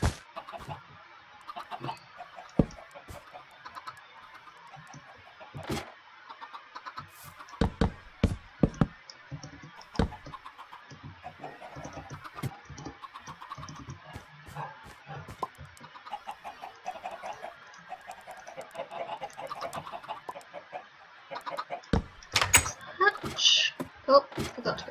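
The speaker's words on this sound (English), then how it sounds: "Chickens!" Chickens clucking in the Minecraft video game, scattered short clucks over quiet game sounds with someone talking in between.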